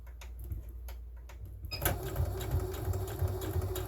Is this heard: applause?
no